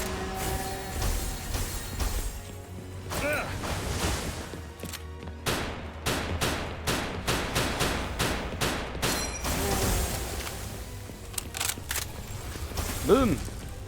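Rocket launcher shots and explosive blasts in the video game Palworld, a rapid string of loud booms and bursts with crashing impacts, running under a man's speech.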